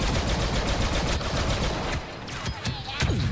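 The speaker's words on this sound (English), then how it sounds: "right, I'm getting shot at" Rapid automatic blaster fire in Star Wars Battlefront II during a capital supremacy match: a steady, fast stream of shots for about two seconds, then a few scattered bursts and sweeping whines.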